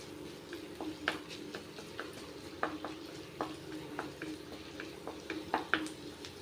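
Onion and garlic sautéing in a pan for sweet corn soup, a steady low sizzle punctuated by irregular close scrapes and taps of a spoon stirring against the pan, no voices.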